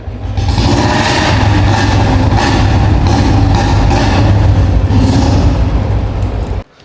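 A Bullet 350 motorcycle engine runs loud and close with a steady, deep thumping idle, holding even throughout before cutting off abruptly at the very end.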